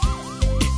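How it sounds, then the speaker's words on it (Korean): A cartoon police car siren wails in rising and falling sweeps, loud and close, over low rumbling, in a short burst. "삐용삐용 사이렌을 울리며 달려가죠."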